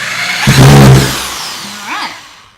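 A power drill whirs in two short bursts while driving a screw into scrap wood and drywall, loud and close, the second burst briefer and fainter.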